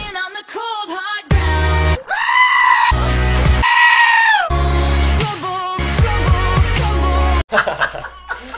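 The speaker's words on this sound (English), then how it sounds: "someone edited it so that there's a goat in the song" A screaming goat cut into a music track, its loud bleats and yells popping out in repeated bursts over the beat and vocals, ending in a short noisy tail.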